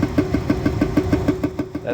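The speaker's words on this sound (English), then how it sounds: "That heat exchanger has separated from its plate, and it's bouncing around in there doing some salsa or something." A furnace heat exchanger that has come loose from its plate rattles inside the cabinet in a fast, regular clatter over a low running hum, close and steady.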